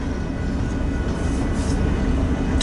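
A freight train rolls past in Fremont, its Chicago and North Western hopper cars producing a continuous loud, even rumble and rail roar that holds steady throughout with no voices.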